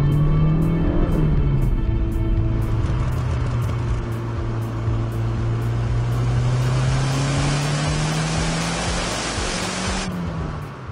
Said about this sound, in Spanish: creo que es hora de arrancar el motor y ponernos al volante de esta máquina.